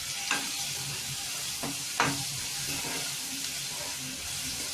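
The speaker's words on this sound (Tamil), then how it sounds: "உப்பு சேர்த்து நல்லா வதக்கிக்கலாம்." Vegetables sautéing with salt in a pan for a bitter gourd thokku, a steady close sizzle with a few scraping stirs of a spoon.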